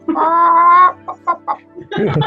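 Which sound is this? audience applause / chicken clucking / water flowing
chicken clucking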